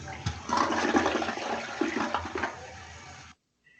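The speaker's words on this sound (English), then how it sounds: "the action is flushing the toilet" A toilet flushes with a rushing swirl of water for about three seconds, fairly close and steady, then stops abruptly into silence.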